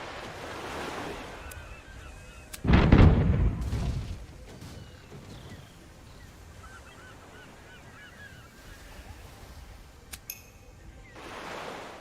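A single heavy cannon boom from the pirate video game Tortuga bursts out and rumbles away over a soft ambient backdrop of sea and wind, with a faint shout or honk-like call later.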